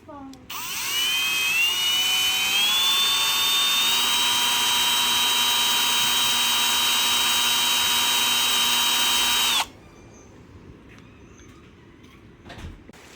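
Power drill boring into a plastic curtain rod holder to enlarge its holes: a loud, steady high whine rising slightly in pitch as it spins up, running about nine seconds before cutting off into quiet handling noises.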